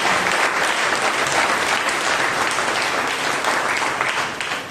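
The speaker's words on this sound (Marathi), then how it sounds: "आपण देवाला मोठ्याने टाळ्या वाजवूया प्रेम मध्ये" A church congregation at a praise and worship service claps loudly and steadily, a thick wash of applause that holds for several seconds and tapers slightly at the end.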